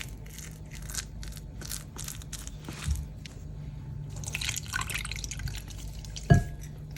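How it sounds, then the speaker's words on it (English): Water is being stirred into a sourdough starter, giving soft wet squishes and drips at close range, with one sharper knock of a utensil against the container near the end. "I like to mix the water into the starter."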